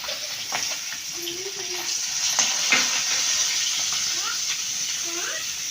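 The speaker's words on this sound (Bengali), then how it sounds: "কালো জিরে ফোড়ন দিলাম।" Black cumin seeds hit hot oil for tempering in a home kitchen, giving a continuous bright sizzle and hiss with light scraping stirs, while voices talk briefly in the background.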